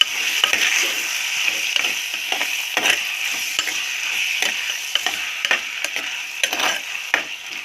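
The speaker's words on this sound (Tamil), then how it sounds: "இப்போது இது கூட நம்ம வந்து தக்காளி ஆட் பண்ணிக்கலாம் இப்போ இதையும் நல்லா மிக்ஸ் பண்ணிக்கலாம்" Tomatoes being stirred into quail egg gravy in a pan, a steady sizzle under repeated scraping and clacking strokes of a spoon against the pan, close and fairly loud with no talking.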